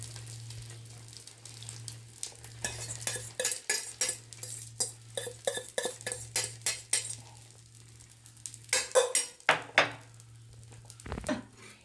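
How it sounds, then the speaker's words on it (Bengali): An egg goes into hot oil in a pan for a boiled-potato omelette, with rhythmic clinks and scrapes of a utensil against the pan and a light sizzle over a steady low hum. "তেলের মধ্যে দিয়ে দেবো ডিমটা"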